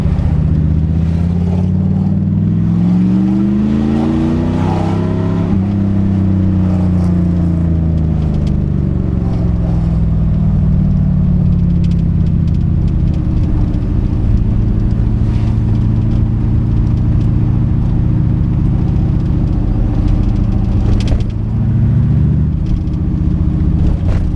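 The V8 engine of a 1984 TVR 4.0 V8 Wild Wedge accelerates on a wet winter road, a loud close rumble climbing through the revs, dropping at a gear change, then pulling steadily again.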